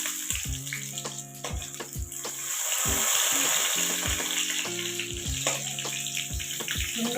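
Pointed gourd (patol) fries in hot oil in a pan, a continuous crackling sizzle that swells in the middle, broken by repeated clinks and scrapes of a utensil against the pan.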